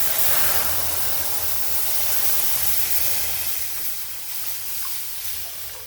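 Milk with pounded rice, stirred in after roasting in ghee, comes to a boil for rice kheer, giving a steady broadband hiss and bubbling simmer that holds loud and close throughout, with no talking.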